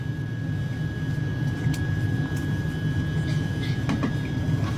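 Steady droning cabin noise aboard a Wings Air passenger flight, a constant low engine hum with a faint high whine, continuous and even throughout with no talk.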